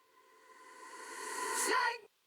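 A reversed reverb swell on a vocal, built in Pro Tools as a delay effect, rises steadily in loudness over about two seconds with a smeared, sustained tone before cutting off abruptly.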